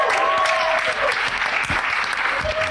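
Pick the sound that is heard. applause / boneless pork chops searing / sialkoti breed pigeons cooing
applause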